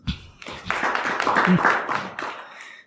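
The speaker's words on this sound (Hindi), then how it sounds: "ताली बजाओ इनके लिए" An audience at a Bhagavad Gita class claps together in a short round of applause, fairly loud and close, with voices mixed in.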